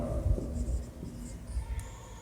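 Notes are handwritten on paper in a Hindi biology lesson, a soft scratching of strokes under low-level room noise, with no talk over it.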